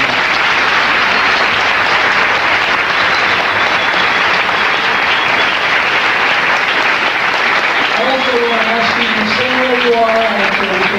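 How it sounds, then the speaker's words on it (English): Dense, loud audience applause for Dr. John Henrik Clarke fills the room continuously, with a voice starting to speak over it near the end. "let's give him another round of applause."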